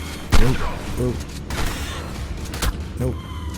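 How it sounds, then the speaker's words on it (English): Shotgun blasts in the survival video game Ark: a few sharp, loud booming reports spaced about a second apart, with game ambience and talk around them. "James, it would help if you loaded your shotgun up first"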